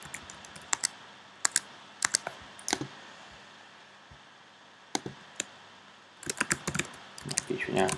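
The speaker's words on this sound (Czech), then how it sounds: "Napíšu nějaký text, zkoušejte volební kalkulačku." Typing on a computer keyboard while composing a blog post, with irregular bursts of sharp, close key clicks separated by short pauses and a denser flurry of keystrokes near the end.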